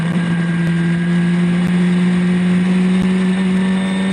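Formula Ford race cars pass through a corner in a historic racing heat, heard as a loud, sustained engine drone with steady tonal harmonics and slight pitch drift.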